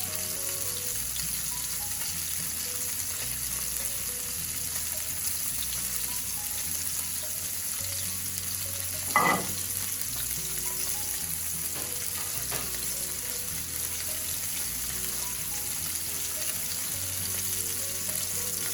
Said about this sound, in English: Now that salmon will sear minute 30 seconds, maybe as long as 3 minutes, depending on the thickness.